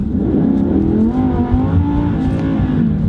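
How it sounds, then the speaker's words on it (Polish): A two-seater sports car's engine revs loudly and up close, its pitch climbing and falling across several throttle blips with a deep, raspy tone and no talking. "posłuchajcie jak to auto brzmi"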